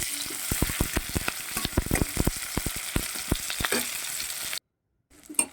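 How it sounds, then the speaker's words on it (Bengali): Onions sizzle and crackle in a hot pan, frying until reddish-brown, with steady frying noise and rhythmic stirring clicks, then it cuts out briefly. "এবার এটাকে লাল লাল করে একটু ভেজে নেব"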